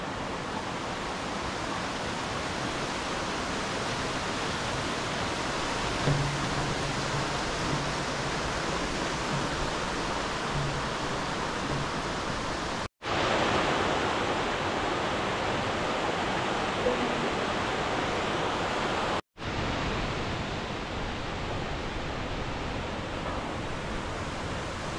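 Cheonnam waterfall in the Cheonbuldong valley of Seoraksan, a steady, broad rushing roar of falling water that fills the whole clip, close and constant, with two brief dropouts.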